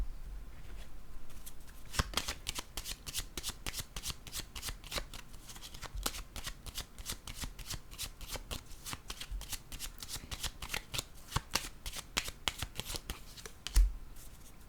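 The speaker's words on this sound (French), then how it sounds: "J'ai besoin de piger une autre carte." Oracle cards shuffled steadily and handled up close, a long run of crisp, rapid riffling flicks at moderate volume with a soft thump near the end.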